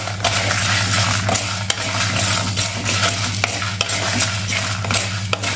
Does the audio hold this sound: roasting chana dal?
yes